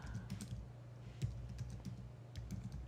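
Computer keyboard typing, quiet and close, with soft irregular key clicks over a low background hum and no talking.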